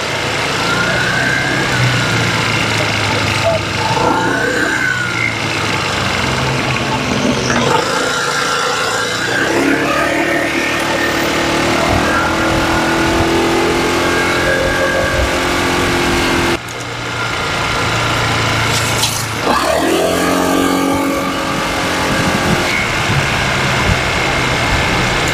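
A motorcycle ridden on a Philippine road passes a tricycle, with a steady close engine drone and road rumble throughout, a brief dip midway, and faint talk mixed into the traffic noise.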